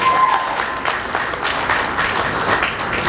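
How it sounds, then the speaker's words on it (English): An audience at a Toastmasters meeting gives Toastmaster Tony Acri a round of applause, loud, close and continuous clapping from many hands throughout, with no talk over it. "give him a round of applause"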